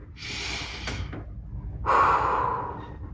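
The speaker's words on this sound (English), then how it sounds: "just taking long, deep breaths to help reset your nervous system" Long, slow deep breaths taken as a stress-relief exercise: a drawn-out airy inhale, a brief pause, then a louder, fuller exhale, close and alone with no talking.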